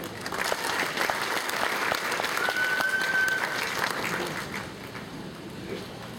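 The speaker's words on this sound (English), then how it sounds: "One more round of applause for the class of 2000" A crowd at a high school graduation applauds the graduating class, a steady dense clapping in a large room that gradually softens, with a brief whistle cutting through.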